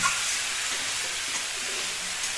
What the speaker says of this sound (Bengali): আমাদের এখানে কুমড়ো আর আলুটা কষিয়ে নেবে আগে